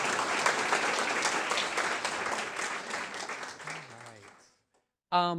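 Audience applause for a reverend at a talk on Thomas James and Puritan history, a full, sustained round of clapping that fades out near the end, followed by a brief spoken voice.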